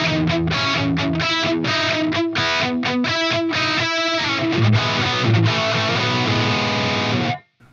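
Electric guitar played through an overdriven amp preamp with no delay effect, loud distorted chords and riffs ringing continuously before stopping abruptly near the end.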